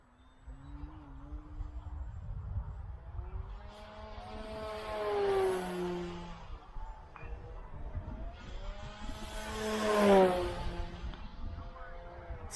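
A fast RC Bloody Baron model airplane, capable of 90+ mph, makes two rising-and-falling passes, its engine whine sweeping up and down in pitch as it swoops by, loudest around each flyby against steady background noise.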